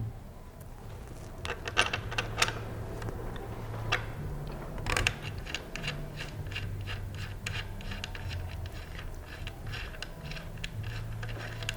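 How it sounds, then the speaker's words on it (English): A 15 millimetre wrench loosening the cone nut on a 16-inch bicycle's rear axle, a series of faint metallic clicks and ratcheting ticks, close and quiet, with no talking. "grab your 15 millimeter wrench and remove the cone nut on the rear axle"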